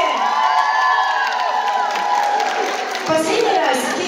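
A crowd at a K-pop cover dance festival in Moscow cheers and whoops loudly over music, with children shouting and some clapping in a continuous, dense wash of noise.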